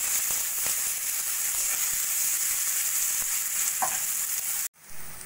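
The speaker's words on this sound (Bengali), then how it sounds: "পেঁয়াজটা একটু আমি ভাজা ভাজা করে নেব।" Thinly sliced onions sizzle steadily in hot oil, a constant crackling hiss with a few stirring scrapes, cutting off abruptly near the end to a quieter background.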